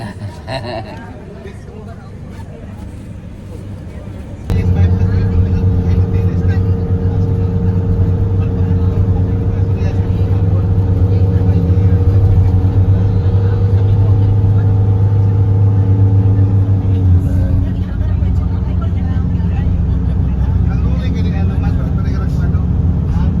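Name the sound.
motorcycle engine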